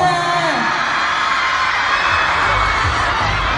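Fans in a multi-level venue at a film-promotion fan meeting cheer and shout in a loud, continuous crowd roar with whoops, while amplified voices talk over it.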